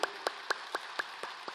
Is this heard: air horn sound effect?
no